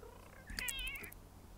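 Cat meowing in The Sims 3, a single drawn-out wavering meow, clear and close against a quiet low background hum.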